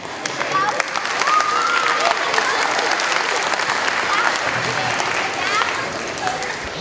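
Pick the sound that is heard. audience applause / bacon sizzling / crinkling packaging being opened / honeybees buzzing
audience applause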